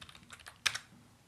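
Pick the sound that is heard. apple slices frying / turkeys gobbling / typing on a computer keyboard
typing on a computer keyboard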